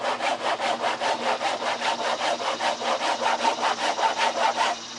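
A handsaw cuts through wood while a sawhorse is being built, each stroke a loud, steady rasp in an even back-and-forth rhythm close by for nearly five seconds, with no talking.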